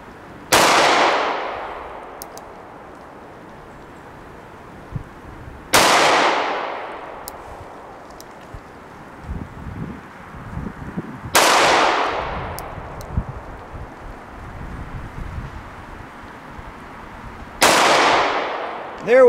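Four loud, sharp gunshots from a Kimber K6s .357 revolver fired at 5 yards, spaced several seconds apart, each with a ringing decay and quiet handling noise between shots.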